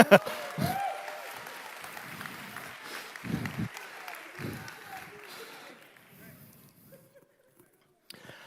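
A room-sized audience at a church sermon applauds briefly, then the clapping fades out into near silence.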